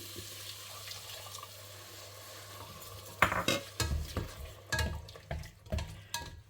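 Water splashes into a pot of chana masala gravy after a quiet start, with several clinks and clatters of cookware close by.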